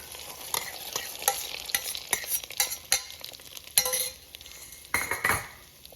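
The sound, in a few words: stirring condensed milk, cashews and milk in Instant Pot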